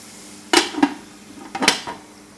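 A lid on a frying pan of buckwheat with minced meat and mushrooms is lifted, giving two pairs of close metallic clanks and scrapes with quiet sizzling between them.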